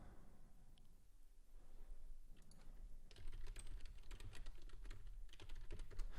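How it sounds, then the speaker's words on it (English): Someone types on a computer keyboard at a day trading desk. The keystrokes start sparse and quiet, then become a quick, steady clatter of close clicks through the second half. "That is me typing to the community."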